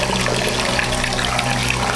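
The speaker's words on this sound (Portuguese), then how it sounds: "Fonte ligada, bombinha funcionando. E saindo água." Water gushes steadily from a small, cheap irrigation pump converted into an automatic water pump, a strong continuous rushing flow that runs loud and unbroken throughout.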